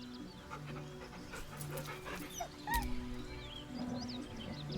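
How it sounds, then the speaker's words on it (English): Dog whimpering in the fantasy role-playing game Baldur's Gate 3, a few thin, nervous whines and soft pants over a low droning game ambience, with no talk. "The dog whimpers nervously,"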